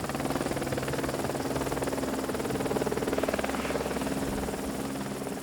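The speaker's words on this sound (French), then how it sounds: "Aux commandes de l'hélicoptère, Pascal." A helicopter's rotor thrums steadily and loudly throughout as it flies over Mont Blanc, a continuous heavy chopping drone with no breaks.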